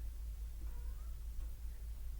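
A house cat meows indoors during cleaning, a couple of soft, faint calls over a low background hum, with no talking.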